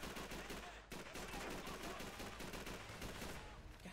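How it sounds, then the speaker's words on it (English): Rapid bursts of gunfire in Call of Duty 3 at a fuel plant, dense automatic shots rattling continuously across the whole stretch at steady loudness, with no talking. "Who's shooting at me?"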